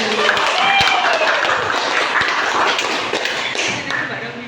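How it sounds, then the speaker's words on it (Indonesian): Audience of teachers applauding at an Indonesian school presentation, steady clapping at close range throughout, with some talk mixed in. "boleh tepuk tangan dulu"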